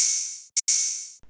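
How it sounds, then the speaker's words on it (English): A sustained open hi-hat sample wash rings out, briefly cut by a short hit, then swells again and fades, from a hip-hop beat made in FL Studio. "And then the open hat,"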